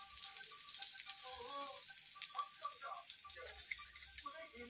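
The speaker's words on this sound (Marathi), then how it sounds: "असं हलवून घ्यायचं, भाजून घ्यायचं मस्तपैकी करपूर भाजून घ्यायचं" Cauliflower pieces with turmeric and cumin fry in a pan for bhaji, a faint, steady sizzle broken by light clicks and scrapes as they are stirred.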